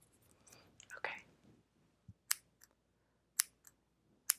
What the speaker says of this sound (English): now we'll just start snipping